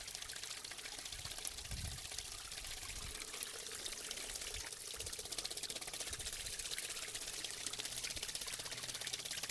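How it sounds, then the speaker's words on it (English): Water splashes continuously off the paddles of a waterwheel in a microhydro installation, a steady broadband wash of spray and trickling with a few low thumps early on, fairly even throughout and with no talk. "it's kind of bouncing the water off instead of capturing it."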